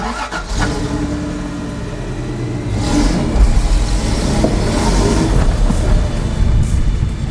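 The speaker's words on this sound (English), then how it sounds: "we're going to go for a little drive, I guess, and give you a feel for what it is to drive this thing around" Off-road 4x4 built from a Volkswagen kit car driving along, its engine a steady mid-pitched drone that swells as it accelerates, with rattling and bumps from the rough ground.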